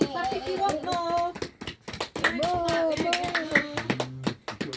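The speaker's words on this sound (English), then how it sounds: "Clap if you want more" A few people clap hands outdoors on bonfire night among fireworks, scattered claps under near continuous chatter and a voice, with short bursts of clapping between remarks.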